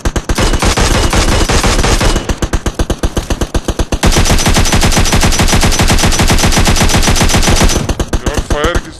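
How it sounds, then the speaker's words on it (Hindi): Sustained automatic gunfire from the PUBG video game on the Miramar map, loud and nearly continuous with rapid regular bursts, a brief pause near the two-second mark, then more firing to the end. "यार फायर किसने किया?"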